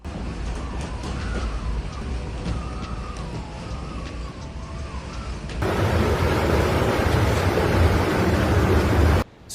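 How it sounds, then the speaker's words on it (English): Strong storm waves crashing against a shore wall in the UK during a powerful storm, a steady heavy roar of surf and wind that swells louder and denser partway through before cutting off. "Strong waves crashed against the shore wall."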